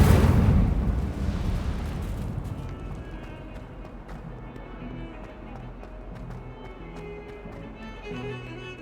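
An Incendio fire spell from the Hogwarts video game bursts loudly with a fiery whoosh at the start, then fades into a lingering crackle under quiet game music and ambience.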